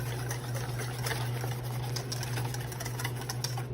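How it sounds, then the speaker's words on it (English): Cream for a Bavarian mousse custard is whisked in a bowl, giving a fast, even patter of light ticks over a steady low background hum. It keeps up throughout at a close, moderate level. "Okay, we whisk together."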